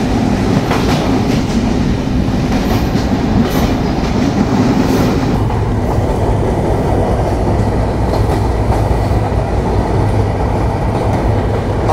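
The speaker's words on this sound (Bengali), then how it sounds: "আমরা নাভারন রেলওয়ে স্টেশন থ্রুপাস যাচ্ছি।" The Rupsha Bangla Express passenger train on the Benapole to Dhaka route, hauled by a 65 series locomotive, passes through Navaran station with a loud, steady rumble and a rhythmic clickety-clack of wheels on rail joints, heard from close by with no talking.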